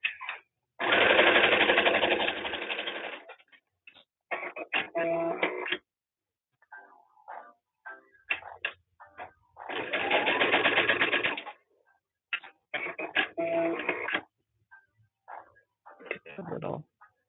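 A sewing machine stitches for free-motion quilting in several bursts, some long and steady, others short and stuttering, close and clear, with a person talking in the pauses.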